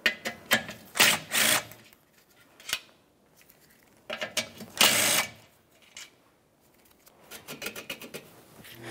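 Ratcheting clicks come from removing two 10 mm bolts from the front bumper impact absorber bracket of a 2012-2018 Nissan Altima, in several quick rattling bursts separated by pauses.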